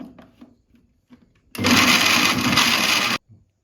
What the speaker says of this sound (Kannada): ಮಿಕ್ಸಿ ಜಾರ್ಗೆ ಈ ಥರ ಚಿಕನ್ನ ಹಾಕ್ಕೊಂಡ್ಮೇಲೆ ಇದನ್ನು ಮಿಕ್ಸಿಗೆ ಹಾಕ್ಕೊಳ್ಳಿ.